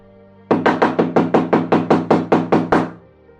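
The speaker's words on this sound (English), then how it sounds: "There was a knock on the door." Eleven firm knocks on a door in a quick, steady rhythm, loud and close, with no voices around them.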